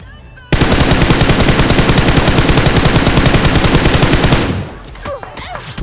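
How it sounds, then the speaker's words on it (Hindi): Sustained rapid automatic gunfire in the battle-royale game BGMI, a loud, dense burst lasting several seconds before cutting off into quieter ambient game sounds. "तभी मेरे को राइट हैंड साइड से फायर आता है"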